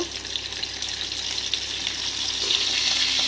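Cauliflower florets frying in hot oil for a home lunch, giving a steady, close hiss and sizzle with broadband crackle that holds even throughout and swells slightly toward the end.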